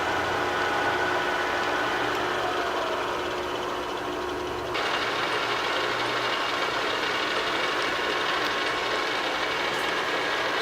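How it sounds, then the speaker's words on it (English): A Bridgeport milling machine motor runs steadily and fairly quietly, a continuous even hum and whir with no knocking, shifting slightly in tone midway as it switches between forward and reverse. "both directions of the motor are working properly and are pretty quiet."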